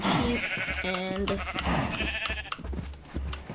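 Sheep bleat repeatedly in Minecraft, short nasal calls over steady background music and low thumping sounds.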